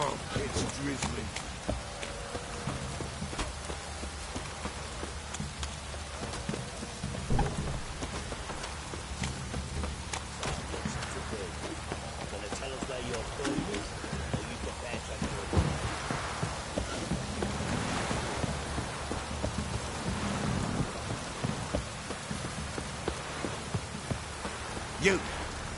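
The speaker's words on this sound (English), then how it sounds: "Oh, it's drizzling." Steady rain falls in a PS4 video game, a dense, even patter running through the whole stretch with other game sounds mixed in.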